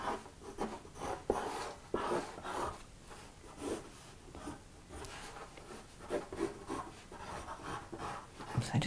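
Pencil tracing lines on watercolour paper, a steady close scratching and rubbing in short repeated strokes, quiet with no talking.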